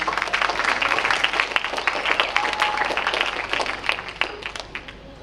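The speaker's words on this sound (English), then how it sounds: "a round of applause and you may sit." A crowd applauding steadily at a school graduation ceremony, dense overlapping claps at a moderate, even level throughout with no voices on top.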